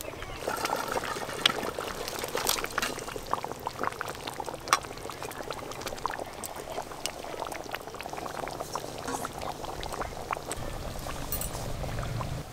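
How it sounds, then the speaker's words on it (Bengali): Fried fish pieces go into simmering fish kalia curry gravy with poppy seed paste, a steady bubbling and sizzling wash running throughout with small wet clatters and pours layered on top. "এবার ভেজে রাখা সব মাছ দিয়ে দেব।"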